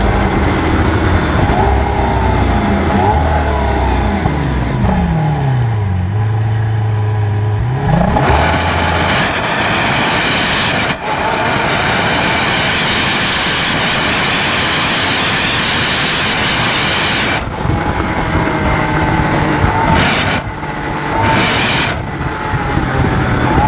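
A Lamborghini Aventador Superveloce LP750, one of 600 built, being driven, its engine roaring steadily with a rising and falling rev sweep midway, loud and close over broadband road and wind noise, no talking.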